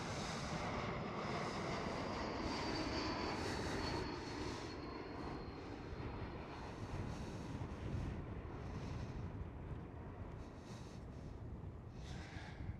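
A British Airways Airbus A320neo jet in the light blue Better World livery passes at Amsterdam Schiphol, a steady broad engine roar with a whining tone that fades slightly as it moves away, with no voices.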